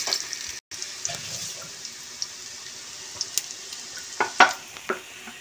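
Potato egg vadas fry in hot oil with a steady, fairly close sizzle, broken by a few sharper clicks and stirring sounds toward the end, with no one talking.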